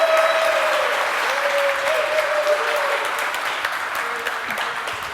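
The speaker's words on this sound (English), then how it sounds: "An applause." A large audience applauds after a tech conference talk on software platforms, a dense, steady wash of clapping that fills the whole stretch and tapers only slightly toward the end.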